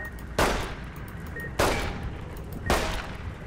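Three sharp gunshots from the game Fallout: New Vegas, evenly spaced about a second apart, each a loud broadband crack with a short decaying tail, over a low steady background and no talking.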